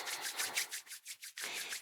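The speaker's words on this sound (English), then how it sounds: "Bring the palms of the hands together and give the hands a big rub." Palms of both hands rubbed briskly together in a quiet room, a close, dry swishing friction in repeated strokes with a short pause before resuming, no talking.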